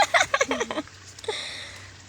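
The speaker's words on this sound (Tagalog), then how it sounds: "Yan, yung ilog dito." A voice talks briefly, then a steady rushing of a flowing mountain river carries on alone, a broad even hiss.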